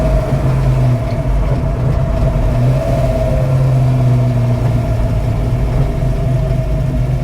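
Car engine running steadily at low revs while the car is turned around on a road, a continuous loud hum with a slight rise and fall in pitch and no talk.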